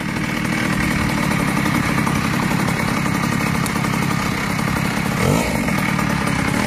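A Peugeot Tomahawk moped fitted with a Metrakit 70cc kit runs loud and close, its high buzzing two-stroke engine holding a steady raspy drone with a brief rev change near the end.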